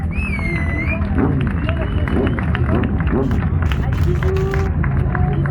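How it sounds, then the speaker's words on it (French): Crowd at an outdoor Santa Claus and Mother Christmas ride gathering applauding themselves, with dense steady clapping under loud hubbub, chatter and shouts, the noise held at a constant level throughout. "j'aimerais que tout le monde s'applaudisse là"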